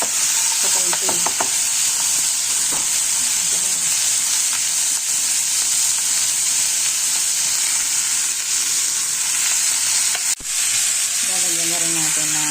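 Carrots and potato stir-frying in a pan, a loud, steady sizzle and hiss with occasional scraping stirs and clinks throughout, no talking.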